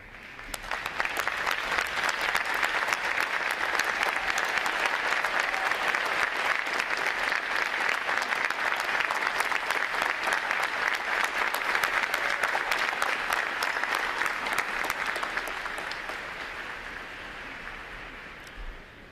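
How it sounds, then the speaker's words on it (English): Loud, dense audience applause fills a large hall at a U.S. Navy recruit training graduation ceremony as veterans stand, holding steady for about fifteen seconds before gradually tapering off. "so we can give you a round of applause"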